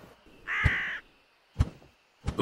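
A cartoon bird lets out one loud, harsh caw, followed by a couple of sharp thumps, all close and clear with no talk over it.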